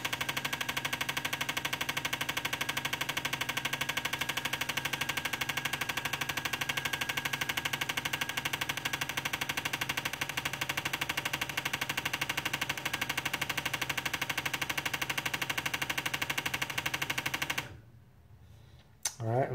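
A Ford engine idles steadily through a fuel injector flow test with 24lb injectors, a dense continuous mechanical drone running close and loud until it cuts off abruptly near the end.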